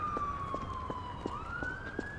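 An ambulance siren in a roleplay city video game wails with a steady tone that dips and then climbs, set against a background of rhythmic ticking clicks.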